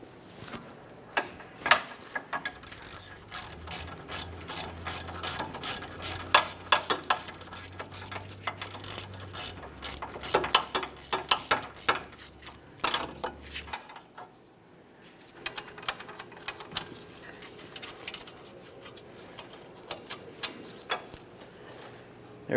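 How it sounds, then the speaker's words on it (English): Ratchet clicking as a 17mm swivel socket loosens bolts near the axle boot during rear wheel bearing and hub replacement on a 2007-2013 Acura MDX, with irregular close clicks and ticks over a low hum that goes quiet near the end. "To be able to easily remove these, we'll be using a 17mm swivel socket."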